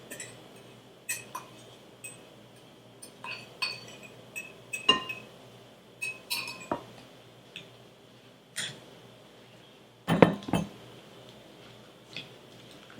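Peeled, chopped apples dropped into a bowl and tossed for a holiday cake, giving a series of scattered clinks and light knocks against the bowl with quiet gaps between them, close and alone.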